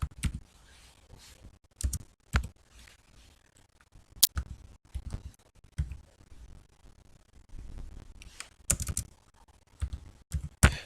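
Clicky keystrokes on a computer keyboard as HTML code is typed, coming in short irregular bursts with pauses between them, close and moderately loud with no talking.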